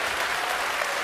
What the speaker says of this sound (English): go ahead, you can applaud.